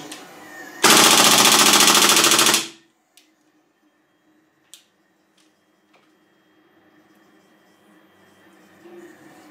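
A rapid, loud burst of gunfire from a PTS MKM gas blowback airsoft gun rattles for about two seconds, followed by a few isolated clicks and quiet handling noise.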